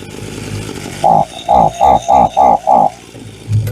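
A small two-stroke engine on a trash-picked Hitachi chainsaw or Troy-Bilt blower sputters in six short, evenly spaced bursts right after a steady idle-like hum, sounding close and fairly loud.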